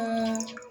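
Bitter gourd soaking water is tipped out into a bowl, making a brief, close trickle with a ringing tone and a few drips at the end.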